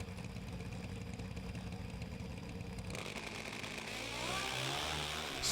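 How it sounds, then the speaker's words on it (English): A four-cylinder pro stock drag racing motorcycle engine at a drag strip, heard faint and distant at first, then rising into a higher-pitched rev partway through. "The more high-pitched sound of that four-cylinder engine"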